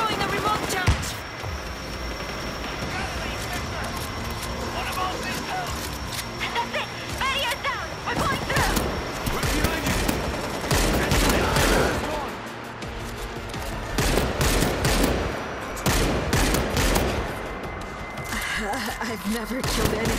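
Gunfire in World War Z Aftermath on the Battle of Nerves / Setting Sun mission, a dense continuous mix of rapid shots, thuds and crashes running throughout under frequent shouted voices.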